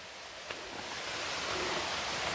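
Water spills from an overflowing lake on a hilltop plateau in a Konkan village, a steady broadband rush that swells slightly louder after a brief opening and continues without any voices.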